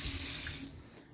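A cup of water pours into a big skillet on a stove set to medium-low, a bright, steady rush of liquid lasting about a second and trailing off quickly, close and alone without any voices.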